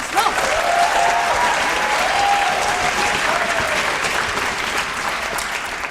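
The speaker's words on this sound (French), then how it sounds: "Applaudissements." Sustained applause from a theatre audience at a revue as a bestselling author is introduced, a loud dense clatter of many hands that holds steady and tapers slightly toward the end.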